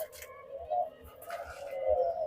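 Doves at a dove farm give low, soft rhythmic coos several times, close by, with someone talking over them.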